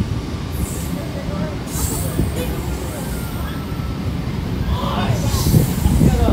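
A Katwa–Sealdah local train runs into Garifa railway station with a continuous loud rumble and rattle of wheels and carriages, plus occasional brief squeals. Voices murmur underneath.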